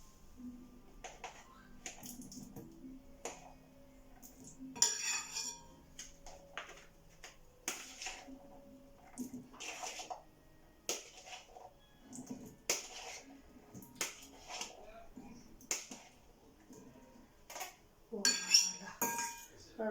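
A utensil clinks and taps against a bowl while ingredients are mixed, giving scattered light metallic and glassy knocks at an irregular pace, close but soft, with some speech in between.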